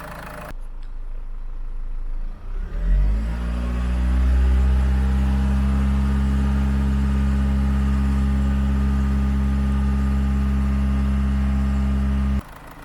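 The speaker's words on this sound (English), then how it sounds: "I'm just gonna rev it up to maybe 2000 RPM or 1800 RPM, hold it for a couple of seconds, and then I'll do it again." A Land Rover Freelander 2 engine during a fuel system injector purge starts, then revs up to roughly 2000 RPM and holds a steady, loud droning tone for several seconds before cutting off abruptly.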